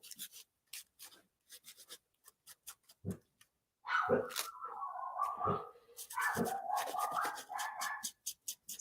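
A pet dog barks in a few loud close bursts, scraping and rubbing noises fill the pauses, and a voice can be heard at times.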